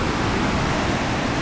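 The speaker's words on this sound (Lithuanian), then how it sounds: "Kai bangos tik tai tenais apačioje dabar daužosi" Sea waves break on the shore at Palanga, a dense, steady roar of surf that fills the whole moment with no voices.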